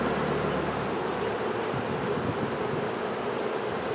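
Honeybees in a top-bar observation hive make a steady, dense buzzing hum that holds evenly throughout, close and continuous with no talking.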